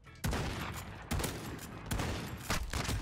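Repeated bursts of rapid gunfire from the MK2 Carbine in Call of Duty: Modern Warfare, in a free-for-all match. There are four loud volleys about a second apart, with no talking over them.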